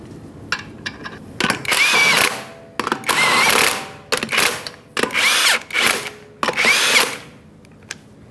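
A power tool runs lug nuts onto a rear wheel of a 2015-2020 Ford F-150, sounding as six loud, close bursts of whirring and ratcheting separated by short pauses.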